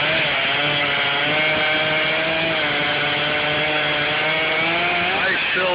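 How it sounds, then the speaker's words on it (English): A small chainsaw cutting a felled cherry tree into firewood logs, its engine holding a loud, steady, close buzzing drone throughout. "Nice little chainsaw he's got there,"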